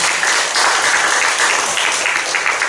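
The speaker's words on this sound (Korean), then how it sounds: "우리 하나님께 영광의 박수로 올려드리겠습니다" Steady, loud applause fills a church hall at the founding ceremony of a revival pastors' association, many hands clapping together in an unbroken roar with no speech over it.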